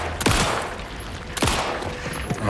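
Gunfire from the video game Alan Wake 2, two sharp, loud shots about a second apart, each with a short echoing tail over a steady ambient game background.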